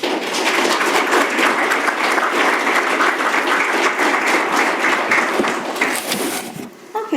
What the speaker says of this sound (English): So I think we should have a round of applause for HepCBC.